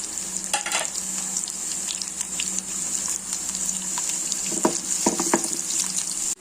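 Hot ghee sizzles steadily as mustard seeds splutter, with sharp little pops and crackles scattered throughout, a few bursts louder toward the end.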